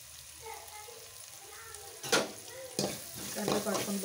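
A handful of curry leaves dropped into hot oil in a pan, a quiet simmer that bursts into a sharp spitting sizzle, followed by stirring scrapes and continued crackle.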